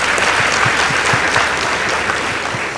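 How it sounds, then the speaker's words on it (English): A school hall audience gives a round of applause for a high school debate team, steady dense clapping throughout, loud and close. "Please give them a round of applause."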